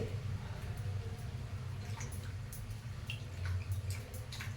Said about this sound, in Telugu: మనం ఇది చక్కగా ఆకుని కడిగించుకోవాలి